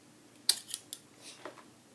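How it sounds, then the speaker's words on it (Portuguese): Blue Acrilex craft scissors handled up close, giving a few short, sharp metallic snips and clicks spaced irregularly against a quiet background. "Que veio com uma tesoura dessa azul."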